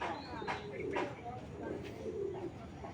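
A large male racing pigeon coos softly in a few low, rolling phrases close by, with a faint background hum.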